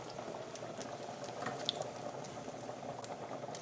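Bacon frying in a pan until crispy, a faint, steady bubbling sizzle with soft scattered pops, heard alone at low level.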